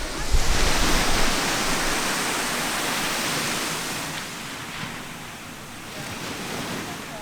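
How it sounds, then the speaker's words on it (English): Ocean surf washes steadily onto a beach, a broad continuous roar of breaking waves with a slight swell near the start and gentle rise and fall. "I'm sitting here on the beach, just listening to the sounds of the ocean"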